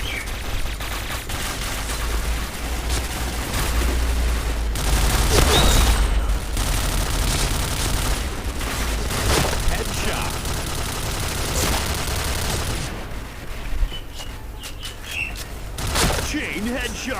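Bursts of gunfire fill a shooting video game during headshot kills, with rapid crackling volleys running almost continuously and a person talking over the action.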